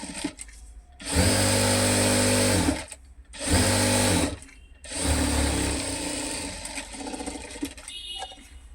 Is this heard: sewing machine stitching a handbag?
yes